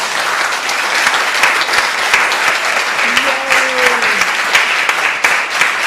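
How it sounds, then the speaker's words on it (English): Loud, sustained audience applause after dancers at a dance event, a dense, steady roar of clapping with a brief whistle or cheer rising above it midway. "Can we give them a huge round of applause?"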